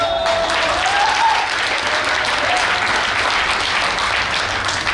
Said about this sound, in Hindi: तो आपको तालियां निकल रही हैं।